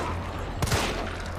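Gunfire in the Resident Evil 3 video game: a quick pair of sharp shots cracks out mid-clip above a steady low in-game background hum.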